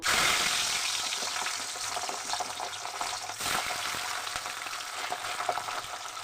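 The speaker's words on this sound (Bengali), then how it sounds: "তেল আমার গরম হয়ে গেছে, আমি এখন মাছ ভেজে নেবো।" Pabda fish frying in hot mustard oil in a kadai produces a loud, continuous close-up sizzle, strongest as it begins, with dense crackling that settles into a steady hiss.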